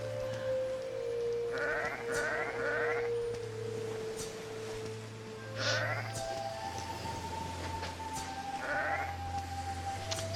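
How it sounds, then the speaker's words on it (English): Sheep in the video game Arcfall bleat in several short, wavering calls spaced across the scene, clear over a steady low game ambience and droning tone, with no talk. "Let's kill some more sheeps."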